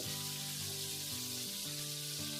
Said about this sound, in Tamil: ரொம்ப சிம்மில் வச்சு பொறுமையாக தான் வறுத்து எடுக்கணும்